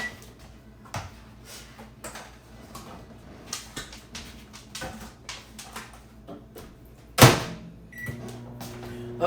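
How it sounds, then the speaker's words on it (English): A microwave hums steadily amid clicks and handling noises, with a sharp loud clack partway through and a beep-like tone near the end. "I'm going to microwave this for a minute while I flip those"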